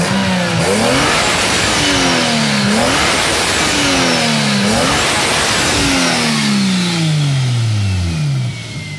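A Toyota 2JZ-GTE VVT-i engine revved hard toward redline several times in a row, each pull rising in pitch then dropping back, loud and close with no talk.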